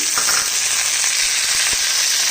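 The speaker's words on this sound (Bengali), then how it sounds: "আমার মাশরুমের টুকরো কটাও সুন্দর হালকা মতো ফ্রাই হয়ে গেছে" Mushroom pieces fry in a hot pan with a loud, continuous close-up sizzle and crackle, broken by a few faint pops, with no talking.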